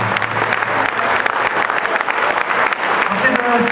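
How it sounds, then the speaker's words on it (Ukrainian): Graduates at an orchestra's 45th-anniversary concert give loud, sustained applause, dense clapping filling the whole stretch with scattered sharper claps near the listener. "давайте, шановні випускники, піднімемося всі і подякуємо гучними оплесками Василю Даниловичу."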